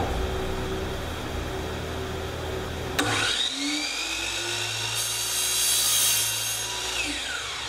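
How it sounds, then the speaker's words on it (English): A chop saw cuts through Schluter metal shower niche trim, starting with a sharp click before the motor whines up and the blade bites with a loud, high metallic screech that trails off as it spins down. "But the only way to get a really clean, precise cut is with a chop saw."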